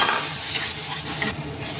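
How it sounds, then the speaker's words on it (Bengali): Fried prawns are stir-fried in spiced oil in a pan, giving a close, steady sizzle with a spatula scraping through the mix for a couple of seconds. "একটু ভালো করে কষিয়ে নেব"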